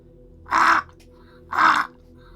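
Two loud, harsh crow caws come about a second apart, each clear and close against a low steady hum, with no talking, used as a sound effect in a tabletop role-playing game.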